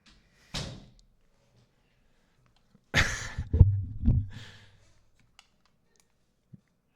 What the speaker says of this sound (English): Yeah, please shut the door.